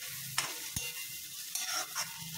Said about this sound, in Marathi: मी अद्रक पण किसून टाकला आणि याला आता थोडंसं परतून घेते